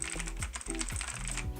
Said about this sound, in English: the sound of the keyboard is like this